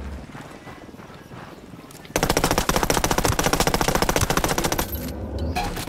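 An SR3M rifle fires in the Ghost Recon Wildlands video game: after a quieter stretch of background game noise, a long sustained burst of rapid automatic shots rattles loudly and steadily for several seconds, then cuts off.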